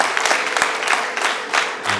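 Applause from a wedding audience, a dense steady wash of many hands clapping close by for the whole stretch, with small swells and no voices standing out.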